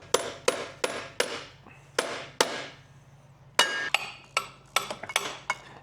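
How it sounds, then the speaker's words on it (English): Sharp metallic hammer blows drive a bolt extractor onto a rounded bolt on an Audi S4, a dozen ringing strikes in uneven bursts with short pauses between, close and loud. "now I'm putting a bolt extractor on it to see if we can get it out"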